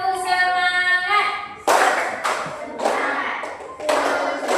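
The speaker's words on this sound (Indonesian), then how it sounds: "Tepuk semangat." A school class in Indonesia claps out a rhythmic spirit clap in sharp, loud bursts of hands, preceded by a short stretch of sustained tonal voices.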